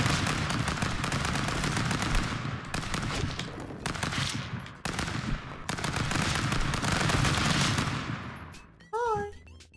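Rapid, dense gunfire from the stick-figure brawler Stick Fight: The Game runs loud and nearly continuous, with a few brief gaps and a short burst of higher tones near the end.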